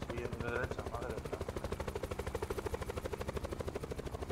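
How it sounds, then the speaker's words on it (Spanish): A helicopter in the video game Call of Duty Black Ops 4 beats out a steady, rapid rotor thump that stays close and continuous, with a voice talking over part of it. "espérate, que escondo el helicóptero por aquí, que así no nos lo quita"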